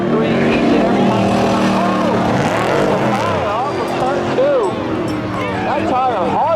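A 1989 Camaro and a 1986 Firebird launch side by side in a spectator drag race, engines revving and rising in pitch as they pull away, heard under a loud announcer's continuous commentary.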